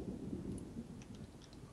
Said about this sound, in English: It's a freaking thunderstorm here.